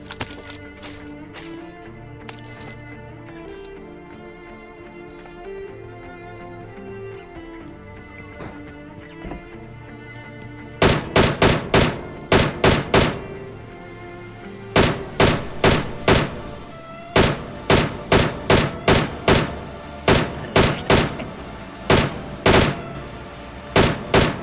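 Gunfire in a battle royale video game: sparse shots at first over a background music bed, then loud rapid bursts of sharp cracks in clusters from about eleven seconds onward.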